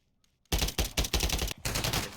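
Rapid enemy gunfire in Call of Duty MW3 erupts after a short quiet, loud, close bursts of automatic shots with a brief gap before a second volley.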